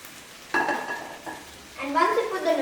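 Vegetable noodles are tossed and mixed in a hot pan, giving short scraping stirs and a soft sizzle in two brief bursts, close and moderately loud.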